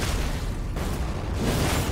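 Explosion in the video game Elden Ring, a loud broadband blast that rumbles through the whole stretch with a brief dip and a renewed burst, no talk over it.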